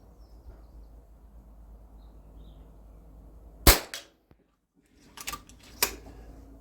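An FX DRS Tactical .22 airgun fires pellets on an outdoor range, giving a sharp loud crack followed by two more shots with mechanical clicks between them, over faint wind noise.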